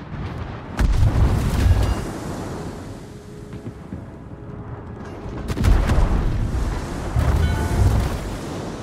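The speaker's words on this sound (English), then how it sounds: "Concentrate fire on that target." Main guns of the Queen Elizabeth battleship fire in a World of Warships naval battle on the Atlantic map: two heavy, rumbling booms a few seconds apart, each followed by a long low roar over wind and sea noise.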